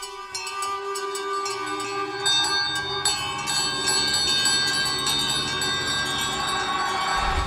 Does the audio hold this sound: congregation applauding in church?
no